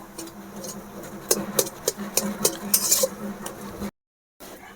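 Spoon scraping and clinking against a pan while garam masala powder is mixed into a spiced paratha filling, a run of close, uneven metallic taps and scrapes that stops abruptly near the end.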